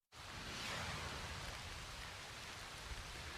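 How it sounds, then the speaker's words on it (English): Heavy rain pours steadily during Hurricane Michael in Citrus County, Florida, a loud, dense, unbroken hiss of water striking surfaces close by, with no voices over it. "it has started raining pretty heavily up here"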